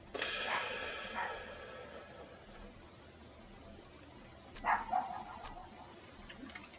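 A neighbour's dog barks excitedly in a few faint, distant bursts, one cluster at the start and another later, over a steady low background hiss.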